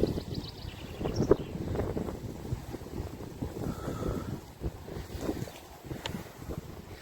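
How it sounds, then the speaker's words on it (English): Wind gusts buffet the microphone on the exposed Roseberry Topping hilltop in Cleveland, a steady rushing roar with rougher bursts and no talking. "wind hits as soon as you get out the trees"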